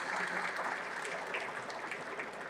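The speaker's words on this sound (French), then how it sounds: "vous pouvez évidemment l'applaudir." Steady applause from a conference audience fills the room, a dense, even wash of many hands clapping that holds at moderate level throughout with no talk over it.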